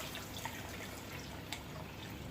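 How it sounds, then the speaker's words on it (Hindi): Water poured into cooked masala for a kofta curry gravy: a faint, steady wet pouring and trickling with a couple of small drips, close and quiet, with no voices. "2 गिलास हम पानी ऐड कर रहे हैं"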